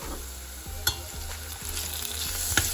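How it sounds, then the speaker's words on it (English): Shredded garlic and ginger sautéing with spices in a pan give a continuous close sizzle, with a few sharp utensil taps against the pan and a low steady hum underneath, and nobody speaking. "So we're going to saute that for a few seconds, because we don't want the garlic to burn"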